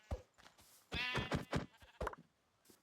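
Sheep in the Minecraft video game bleat several times in short, wavering calls, close and clear, with brief gaps between them and no talk over them.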